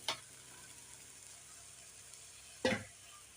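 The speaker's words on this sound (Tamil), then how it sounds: "வாழைப்பூ நல்லா வதங்கிடுச்சு. ஒரு கிண்டி விட்டுடுங்க." Banana flower stir-frying in a pan: a faint, low sizzle underlies two short scraping stirs, one at the very start and one near the end, quiet and close, no talking.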